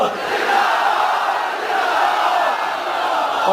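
A large rally crowd roars out a religious slogan in unison, a massed wash of many voices holding a loud sustained shout across the whole stretch.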